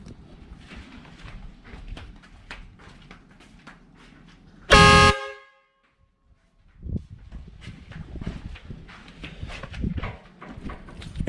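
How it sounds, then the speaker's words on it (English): Air horns on a Landcruiser 79 series twin cab give one loud, sustained blast of about half a second that cuts off abruptly, followed by near silence, with quieter handling and footstep-like clatter around it. "give the air horns a bit of a blast so you can hear the difference before and after"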